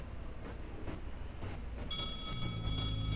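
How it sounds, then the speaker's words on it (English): Train rolling past in a video game set in a 1942 Soviet roleplay world, a steady rumbling build with bright whistling or squealing tones joining near the end, continuous and moderately close, with no talk. "watch that train"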